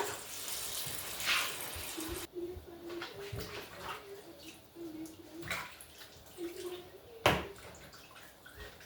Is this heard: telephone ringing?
no